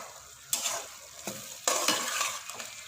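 Egg and potato curry simmers and fries in a pan with a soft background sizzle, broken up by several louder bursts as a spoon stirs and scrapes through it, close and with no voices.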